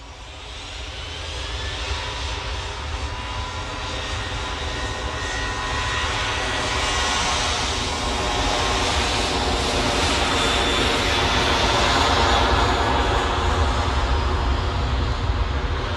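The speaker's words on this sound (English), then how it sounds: "Ryanair's on the roll." A Ryanair jet airliner rolls for takeoff at Manchester Airport, its engines a loud, steady, broadband roar that builds gradually and holds powerfully throughout, with no voices over it.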